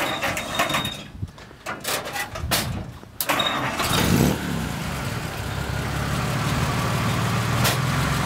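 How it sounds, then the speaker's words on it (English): A 1949 Ford panel delivery truck engine cranks with a clattering starter for a few seconds, catches and settles into a steady, close idle that runs to the end. "We're going to have an engine startup of this really cool Ford panel."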